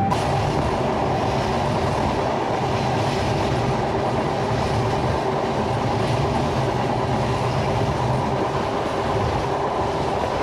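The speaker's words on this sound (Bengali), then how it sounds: "এখন আমাদের ট্রেনটি কিন্তু পদ্মা সেতুতে ওঠার জন্য প্রস্তুতি নিচ্ছে।" The Rupashi Bangla Express passenger train rolls along rails near Bhanga Junction in Bangladesh, giving a loud, unbroken rumble with faint clickety-clack from inside the carriage.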